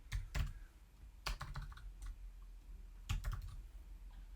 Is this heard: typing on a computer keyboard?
yes